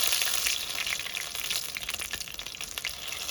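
Bread snacks fry steadily in hot oil in a pan, giving a continuous close hiss and sizzle with small crackles throughout.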